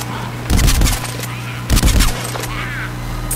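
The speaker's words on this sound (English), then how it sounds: "I just tried to shoot at a zombie." Gunfire aimed at a zombie in Plants vs Zombies, two loud, close bursts of shooting separated by a pause, over steady game background sound and a low hum.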